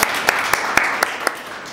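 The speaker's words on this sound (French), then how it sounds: "Applaudissez-nous pour cela." Audience applause at a panel session, heard as a brief run of sharp, evenly spaced claps, roughly one every quarter second, over a steady room background.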